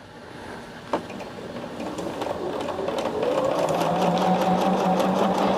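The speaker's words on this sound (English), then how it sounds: "I'm sewing. I'm getting my binding done." A sewing machine stitches quilt binding, its motor whirring steadily and close by, building slightly in speed and loudness as it runs on without talk.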